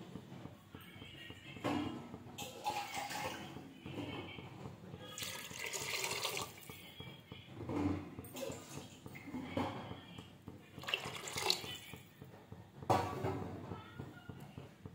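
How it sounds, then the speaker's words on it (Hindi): Water is poured into a pan of khichdi in a home kitchen, intermittent splashing and trickling bursts at moderate closeness, with someone talking between and over them. "तो और पानी डालना पड़ेगा यहाँ पर, तो मैं और पानी ऐड कर देती हूँ।"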